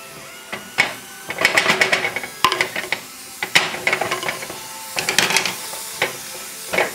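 Wine reducing in a hot pan with sautéed turkey and mushrooms gives a close, steady steamy hiss, broken by bursts of crackling sizzle and sharp pops and spatters.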